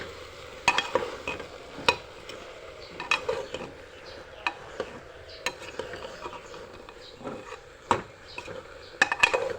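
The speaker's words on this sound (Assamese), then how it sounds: "এতিয়া অলপ টাইম ভাজি লওঁ," Dried fish frying in a pan, cooked with taro stolons: a spatula scrapes and knocks against the pan in irregular, fairly close strokes over a quiet background sizzle, with no talking.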